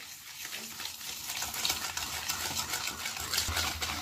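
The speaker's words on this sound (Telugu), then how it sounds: "ఇక ఒక విస్కర్తో బాగా కలిపేసుకోవాలి." A whisk stirs sugar, oil and yogurt into a cake batter in a bowl, steady rapid scraping and sloshing close by, even and continuous throughout, with no voices.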